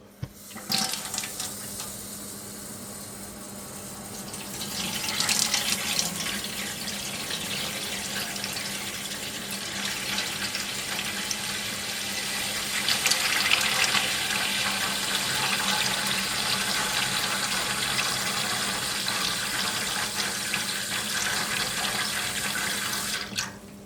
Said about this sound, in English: Half fill a shallow tray with water